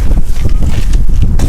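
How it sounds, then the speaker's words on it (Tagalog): Strong gusting wind buffeting the microphone outdoors in Greenland, with low rumbling roars throughout a brief moment. "Lakas ng hangin."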